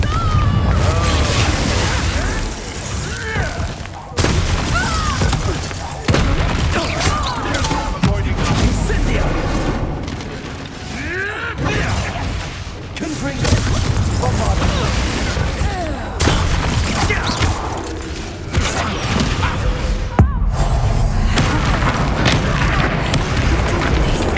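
Spell explosions from Bombarda and Confringo in Hogwarts Legacy on PS5, a dense run of loud booms and crashing bursts that go on almost without a break, with voices heard now and then under the blasts.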